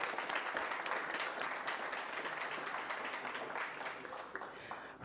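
Audience at a school district board meeting applauds steadily for about five seconds, a dense, even wash of clapping heard without speech.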